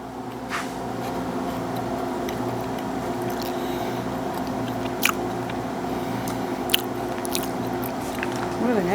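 Freeze-dried feta cheese being chewed, a dry, crunchy munching that runs steadily throughout over a humming background, with a couple of sharper crisp crunches.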